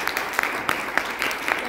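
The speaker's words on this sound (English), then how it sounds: "please give a round of applause for Dr." An audience at a talk on International Women's Day gives a short burst of light, scattered applause, a few distinct claps standing out over a soft background.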